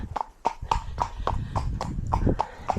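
Hooves of a ridden horse clip-clop in a steady walking rhythm, about ten distinct strikes at close range over a low background rumble.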